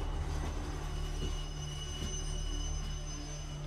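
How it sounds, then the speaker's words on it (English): A passenger train running between Midland and Fremantle rumbles steadily from inside the carriage, with a continuous low drone, faint wheel squeal and occasional track clicks. "This train runs from Midland to Fremantle via Perth Central."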